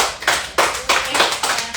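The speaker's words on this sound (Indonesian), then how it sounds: "Kayak kita harus memberikan tepuk tangan." A handful of people in a Bali radio studio clap in short, uneven bursts, about five distinct rounds of close hand claps in under two seconds.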